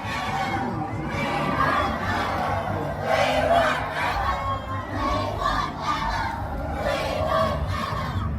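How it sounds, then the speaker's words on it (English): Recorded crowd of concert fans cheering and screaming wildly, played at a museum exhibit; a loud, continuous roar of shouting voices with a steady low hum beneath. "the crowd went wild, quite literally"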